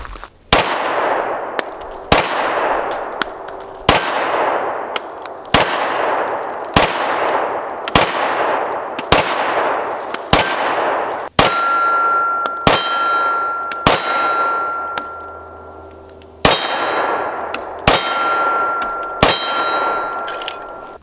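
A Mossberg MC1 pistol fires at a range and rounds strike steel targets: about a dozen separate sharp shots, each with a ringing metallic clang that decays over a couple of seconds, spaced unevenly, loud and close.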